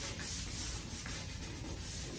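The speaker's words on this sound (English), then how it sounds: "start sanding it like this" A small wooden furniture piece being sanded by hand, a close, steady, continuous scratchy rubbing of grit against wood with no voices.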